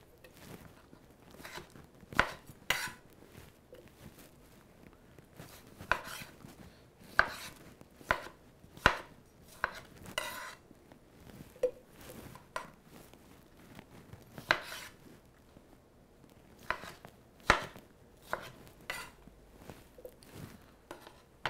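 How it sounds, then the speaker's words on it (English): A knife rough-chops small quartered tomatoes on a cutting board for a raw vegan salad dressing, giving sharp, close taps in irregular clusters with quiet pauses between, no talking. "So we can cut that in quarters. Give that just a nice little rough chop."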